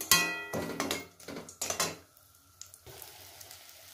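Naru, Bengali sweet balls, frying in a pan, with sizzling and a few sharp clinks of a utensil against the pan over about two seconds, then a quieter stretch with faint scrapes.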